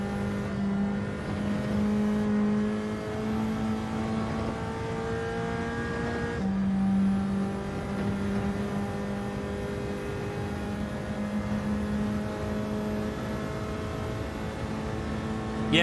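A race car engine in Gran Turismo 7 holds a steady, high-pitched whine through a lap, with pitch climbing and dropping as it shifts gears and slows for corners, loud and continuous with no talking.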